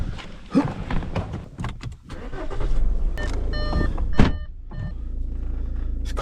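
Someone gets into a car for a South Wales coastal road trip: a string of sharp thunks and clicks from doors and seatbelts, a power window whirring, then the engine starts and settles into a steady idle hum, with no talk.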